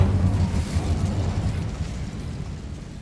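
Incendio fire spell cast in the Hogwarts Legacy video game: a dense, low, rumbling burst of flame that roars loudly at the start and holds steady for about three seconds before easing slightly.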